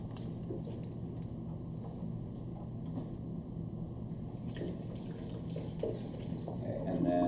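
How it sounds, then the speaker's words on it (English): Tap water runs steadily into a sink while a sample bottle is rinsed beneath it, a constant close splashing flow that swells louder at the end. "I'm going to take this and rinse it off."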